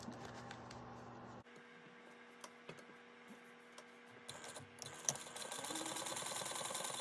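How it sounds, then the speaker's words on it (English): A sewing machine stitches along a crease dividing a pocket, a soft steady mechanical whir with small clicks, louder and denser toward the end, no talk. "we're gonna sew from the bottom up along that crease that we made to divide our pocket"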